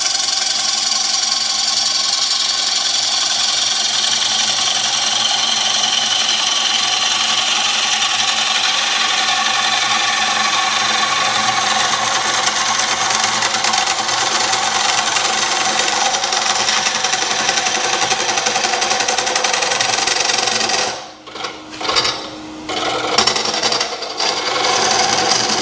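A bowl gouge cuts into spinning wood on a turning lathe, a continuous loud hissing, rasping shear that holds steady for over twenty seconds before briefly breaking off and resuming in short bursts.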